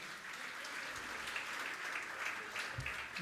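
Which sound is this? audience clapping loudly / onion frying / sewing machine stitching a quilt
audience clapping loudly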